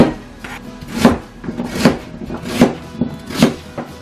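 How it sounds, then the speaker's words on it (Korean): A kitchen knife finely chops onion and radish on a wooden board for water kimchi, with a steady run of crisp, close chopping thunks at a regular rhythm and no talking. "양파와 무도 쉽죠? 잘게 썰어주면 끝!"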